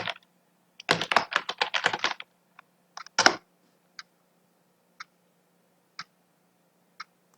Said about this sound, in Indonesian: Nah, di sini kita mengetik pesan di client.